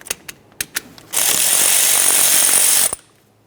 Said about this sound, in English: We'll loosen up that upper bolt.